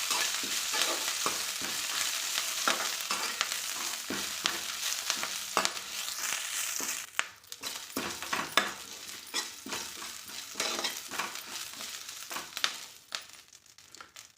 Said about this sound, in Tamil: கருவேப்பிள்ளையை சேர்த்துட்டு நல்லா இதை வறுத்துக்கலாம்.